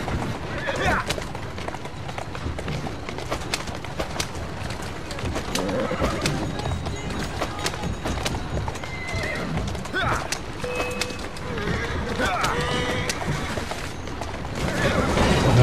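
Horse in the Assassin's Creed Syndicate game neighing loudly and galloping with rapid clip-clop hooves, mixed with mechanical game sounds while someone talks over it.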